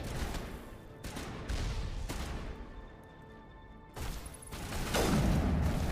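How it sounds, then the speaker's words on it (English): Sniper rifle fire in the video game Mass Effect: several heavy, loud shots spaced a second or two apart, each with a sharp crack and a rumbling tail, layered over game ambience. "Let me shoot my sniper a little bit."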